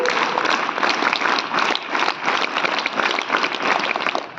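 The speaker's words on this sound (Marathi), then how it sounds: "पुन्हा एकदा त्यांच्यासाठी टाळ्या. क्लॅप गो." Sustained applause from an audience at a Marathi gathering honouring someone ranked 57th from Maharashtra, dense steady clapping filling the space, loud and continuous with no talk over it.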